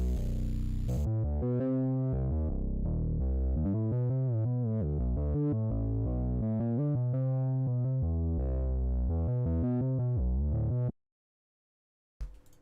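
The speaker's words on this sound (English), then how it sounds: "So it's basically a pluck. It's another super saw with phase randomness." A plucked super saw bass synth with phase randomness, low-passed and heard without distortion, plays a loud rhythmic sequence of short notes for about ten seconds before stopping into silence.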